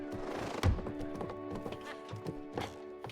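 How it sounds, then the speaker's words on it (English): Horse sounds in a video game: a sharp thump followed by clip-clop hooves and a short whinny, heard moderately close over a steady game background. "When did this horse get in here?"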